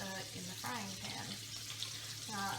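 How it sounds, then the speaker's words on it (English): Rissoles sizzle in a frying pan with a steady crackling hiss under a voice. "the rissoles are in the frying pan"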